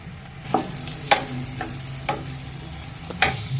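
Asafoetida and curry leaves hit hot oil in a pan for a dhaba-style stuffed brinjal curry, giving a steady low sizzle broken by several sharp crackling pops and spatters at irregular intervals, close up, with no talking.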